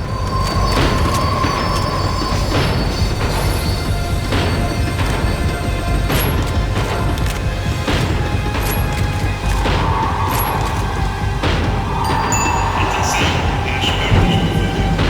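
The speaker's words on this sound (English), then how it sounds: "The tram was slowing down, and I'd only just gotten on board." Tram slowing down in Max Payne 3, a loud continuous rail rumble with clattering wheels, metallic bangs and high squeals from braking, steady throughout.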